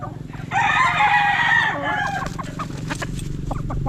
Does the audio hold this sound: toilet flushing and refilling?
no